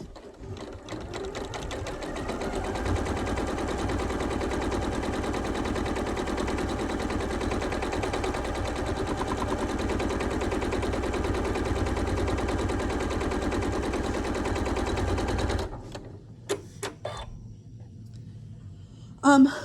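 A sewing machine stitches quarter-inch quilt seams in a long, steady, fast run of needle clatter for about fifteen seconds, then stops, leaving a few faint handling clicks and a brief knock at the end.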